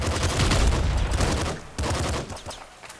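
Rapid bursts of gunfire from the Nuclear Throne video game, dense overlapping shots firing in quick succession, loud and close, easing off slightly toward the end, with no speech.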